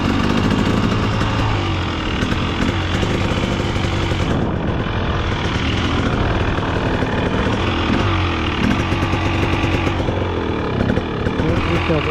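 A 2023 KTM 300 XC motorcycle engine idles steadily and close by, a continuous rough two-stroke drone under intermittent talk, with the speaker dealing with a PV fault code.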